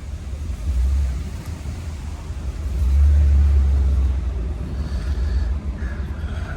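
A 1967 Cadillac DeVille on the move, heard as a low engine rumble and road noise that swells about midway, with no talk.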